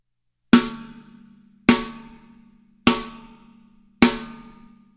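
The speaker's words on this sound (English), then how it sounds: "you're going to strike the rim of the drum and the head at the same time to create a nice crack" Four snare drum rim shots land evenly spaced as a fat backbeat, stick striking rim and head together for a loud, sharp crack that rings briefly and decays before the next hit, with no other sound between.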